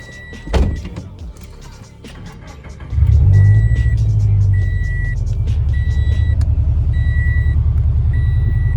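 A tuned Subaru BRZ with a JDL UEL header and loud aftermarket exhaust starts up for a night drive, a brief whoosh giving way to a heavy, steady low rumble with faint electronic chimes repeating above it.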